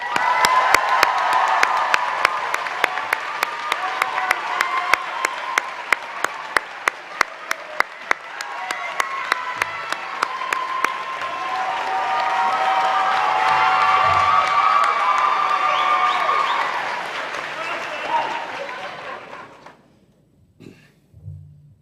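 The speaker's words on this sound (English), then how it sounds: "I also invite you to keep the applause going" A large audience at a college convocation ceremony claps steadily, with loud dense applause joined by cheers and whoops that swell, then fade out near the end.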